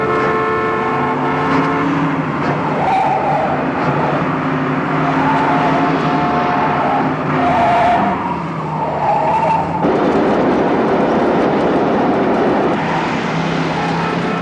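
A Pontiac Le Mans races at high speed under an elevated railway during a film car chase, its engine roaring loud and steady with rising and falling revs and squealing tires, and no talking.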